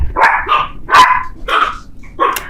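Several dogs bark in short loud bursts, about five barks spread over a couple of seconds, close by and with no talking, heard through an open front door while a neighbor boy plays basketball outside.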